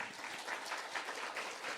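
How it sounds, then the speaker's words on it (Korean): Church congregation clapping after a closing prayer, a faint, distant wash of hand claps with a soft, even texture and slight swells, heard without any talking. "자, 우리 박수."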